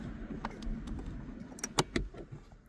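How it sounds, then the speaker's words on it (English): Pulling up the handbrake in a 2014 Vauxhall Astra J 1.4 SRi gives a quick run of close ratcheting clicks near the end, over a low in-car hum. "pull it on, put my handbrake on a little bit"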